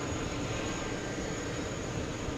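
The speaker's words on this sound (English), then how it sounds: "A330 from Amsterdam. Lighting up for runway." An Airbus A330 airliner from Amsterdam powers up on a runway at JFK airport, a steady, dense jet roar that holds evenly throughout without pause.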